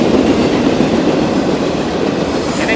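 A freight train rolls loudly through the middle of a New Orleans town, giving a steady, close rumble with clattering wheels and no pauses for the whole stretch.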